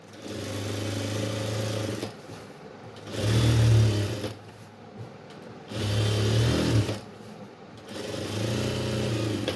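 A sewing machine stitches a lungi in three loud bursts of steady motor whir and rapid needle chatter, each lasting a couple of seconds, with quieter pauses between runs.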